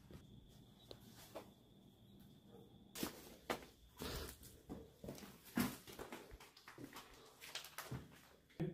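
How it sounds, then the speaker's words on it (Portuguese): Dogs barking off in the distance around an abandoned countryside hotel-farm in the interior of São Paulo, Brazil, a scattered series of faint to moderate barks coming irregularly over quiet surroundings. "Os cachorros lá latindo toda hora."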